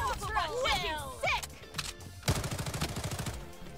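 An MP5 submachine gun fires in the Bloodstrike shooter game as a rapid, even burst of shots near the end. Excited voices talk over the first half before the firing starts.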